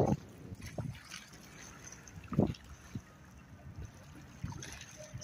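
A boat passes through harbour water at Porto Corsini, with a low engine rumble rising and falling in a few soft surges over a quiet watery background.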